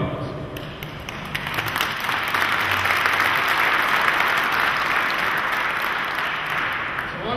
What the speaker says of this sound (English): Your patriotism is remarkable, and it deserves our recognition and our applause.